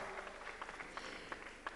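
An audience at an international guitar festival applauds as bagpipe players are welcomed onstage, scattered individual claps standing out above a soft, distant patter.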